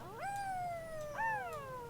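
Cat meowing in a video game, two drawn-out rising and falling meows close up, the second slightly louder, over a low background hum with no talk.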